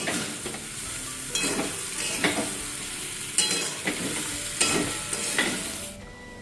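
Vegetable curry cooks in a pan, its steady sizzle broken by several scraping stirs of a spoon at irregular intervals, close and moderately loud, with no talking.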